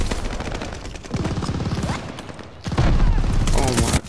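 Video game gunfire rattles in fast automatic bursts, loud and close, with a brief lull in the middle before a heavier stretch of shooting, and a voice briefly audible underneath.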